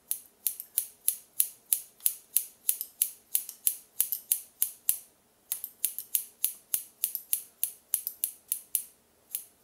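Crisp scissor snips cutting men's hair in a quick, even rhythm, dozens of close metallic cuts with a short pause midway.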